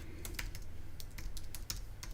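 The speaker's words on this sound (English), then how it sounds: "I'm typing" Quiet, steady typing on a computer keyboard in a live streaming setup, with irregular rapid key clicks throughout and no talking.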